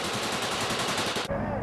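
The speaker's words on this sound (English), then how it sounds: "You can see the tracer fire from the left and what seems to be an explosion underneath the helicopter." Machine gun fire aimed at a helicopter in Taliban propaganda footage: a dense, loud, continuous burst of rapid shots that cuts off abruptly, leaving quieter background noise.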